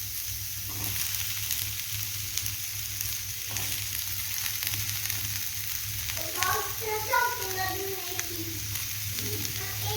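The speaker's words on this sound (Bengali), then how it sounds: "আলু বেগুন মোটামুটি ভাজা হয়ে গেছে" Potatoes and eggplant sizzle in hot oil in a pan with browned onion, a steady crackling fry throughout, with a few soft clinks and stirring scrapes toward the end.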